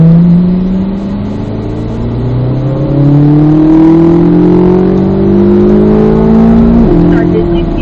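A car accelerates hard on a race track, its engine rising loud and close through the gears with rising, sweeping pitch and a brief shift near the end.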